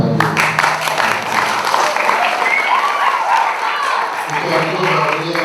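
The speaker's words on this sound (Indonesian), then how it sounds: "Kita berikan aplaus untuk Pak Haji." An audience breaks into loud, sustained clapping for Pak Haji at a speech gathering, and voices are heard alongside the applause.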